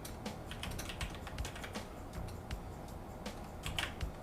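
Quiet typing on a computer keyboard, a steady patter of soft key clicks with irregular rhythm, close and alone.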